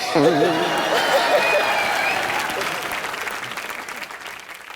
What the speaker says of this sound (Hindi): जोरदार तालियां, जोरदार तालियां कृष्णा जी के लिए